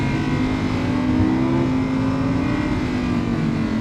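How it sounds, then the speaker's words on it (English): A 2021 Audi R8 V10 engine hums steadily with a rising rev, a throaty high-revving note heard from inside or close to the car. "I would just slow down and do that for no reason other than to hear that V10 sing."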